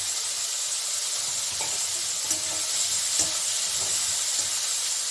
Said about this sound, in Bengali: এখন আমি এই তেলে আমি বেগুন দিয়ে দেব